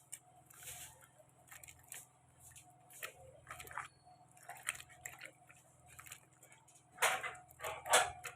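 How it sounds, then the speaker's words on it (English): Deshelled snails being washed by hand in water, with wet squishing and sloshing under soft clinks, irregular close rubbing and splashes that grow louder toward the end. "This is we washing it with water for the first time"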